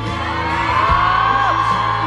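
A concert audience at an outdoor music festival cheers and whoops for the band, a loud, sustained crowd roar with shrill yells rising over it from start to end.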